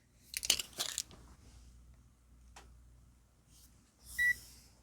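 Protective film peeled off the screen of a ZOYI ZT-R01 multimeter and thermal camera gives a short crinkling rip at close range, a few faint rustles, then a single electronic beep near the end.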